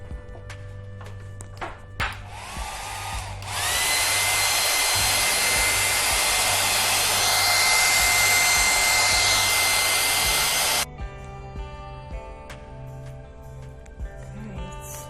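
A hair dryer blows on wet acrylic paint. Its steady, loud whir starts after a few seconds, runs for about seven seconds, then cuts off, with quiet background around it.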